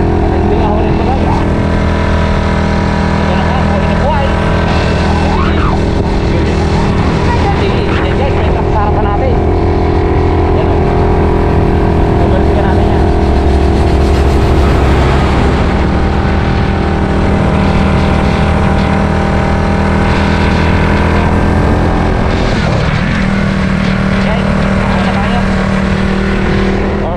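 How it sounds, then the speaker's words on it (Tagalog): A 2024 Honda Raider FI 150 motorcycle grinds up a steep hill in third gear at full throttle, its engine roaring loud and steady throughout with a rider talking over the noise. "yung tercera natin ngayon ay naka full throttle na"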